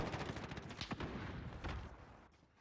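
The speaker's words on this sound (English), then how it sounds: "Somebody just got sniped over there" Gunfire rattles in a Modern Warfare multiplayer match: a dense, crackling run of shots and impacts, moderately distant and fading toward the end.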